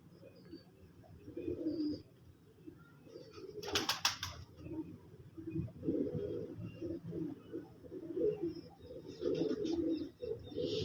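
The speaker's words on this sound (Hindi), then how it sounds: "उनके घर के बड़े ब्रीडर कबूतर हैं जी, सलारे कबूतर माशाल्लाह बहुत आला कबूतर है" Salare breeder pigeons coo in low, repeated throaty rolls close by, with a brief flutter of wings partway through.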